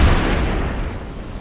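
A single deep grenade explosion from the Destiny 2 video game, a loud close boom that rumbles and fades over about a second, with no talk over it.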